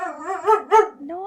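A dog gives a drawn-out, wavering howl-like vocalization with rising and falling pitch, including two louder peaks, heard up close and alone.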